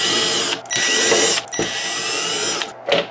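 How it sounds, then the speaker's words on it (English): Small hand tool or screwdriver mechanism turning screws out of the rear of a DVD player's cover, a few ratcheting, whirring bursts separated by short pauses, close and fairly loud with no talk. "We're going to take off a couple screws back here."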